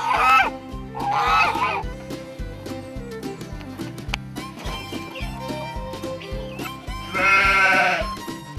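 Barnyard animals on an East Texas farm bleat in several loud, wavering calls, some overlapping, against a steady background of farm noise.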